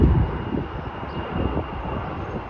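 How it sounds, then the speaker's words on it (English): An Air Canada jet airliner rumbles overhead, a steady low roar with broadband engine noise, fairly loud and continuous with no voices. "Yeah, some of the Air Canada planes have a dark tail logo."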